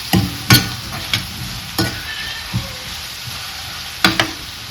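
Onion fries in a pan until reddish, a low steady sizzle broken by repeated loud knocks and scrapes of a stirring spoon against the pan, with no talking.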